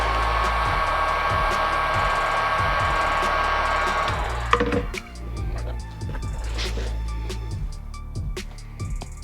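Heat gun blowing steadily at close range to reactivate glue on a 1985 Nike Air Jordan Royal sole during a sole swap, a loud continuous whoosh that cuts off about halfway, leaving quieter handling sounds.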